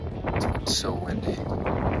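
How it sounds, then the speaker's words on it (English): Strong wind batters the microphone high on Mount Kilimanjaro, loud gusty buffeting and roaring in uneven surges, with someone talking through it. "now the biggest problem is it's just really windy here."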